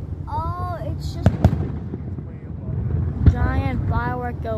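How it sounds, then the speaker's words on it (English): Fireworks bursting in the sky outdoors, a few sharp booms standing out over wind noise while people talk nearby. "giant firework go boom."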